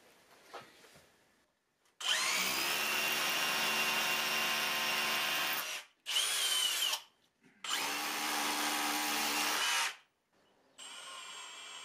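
A cordless drill fitted with an 8 mm bit bores into wood in a woodworking shop, running in three loud, close bursts of about four, one and two and a half seconds, with a shorter run trailing off at the end.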